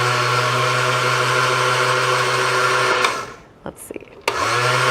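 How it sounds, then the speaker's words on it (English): A slow kitchen blender runs with a steady loud motor whine, then cuts out near the end, with a few clicks and knocks before the motor starts again. "It's a slower blender"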